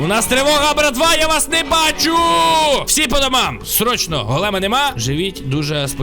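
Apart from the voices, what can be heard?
No distinct noise like a dog, phone or traffic.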